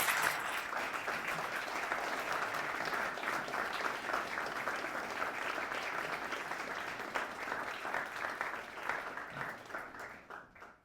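A lecture-hall audience claps steadily for about ten seconds to welcome Dr. David Schindler before his Thomas Aquinas lecture, a dense, even wash of applause that tapers off at the end.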